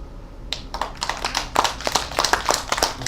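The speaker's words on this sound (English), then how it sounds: "So another round of applause for you guys." Scattered clapping from a small audience at a Libertarian Party candidate mixer in Hays, a handful of close, uneven hand claps starting abruptly and continuing in sparse bursts.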